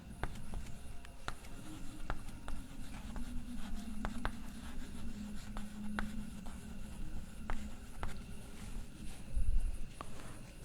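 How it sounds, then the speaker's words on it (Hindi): A pen or chalk moves across a writing surface by hand, faint scratching broken by a series of sharp taps as strokes begin and end, steady and close, without speech. "इसको मैं यहां लिख देता हूं।"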